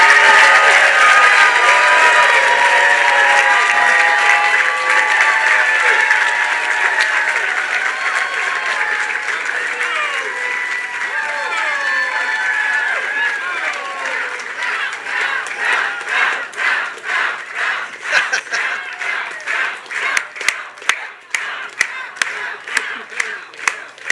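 Big rally crowd at Congressman Ralph Norman's South Carolina gubernatorial campaign launch, applauding and cheering loudly and steadily, ending in a burst of sharp, rhythmic clapping.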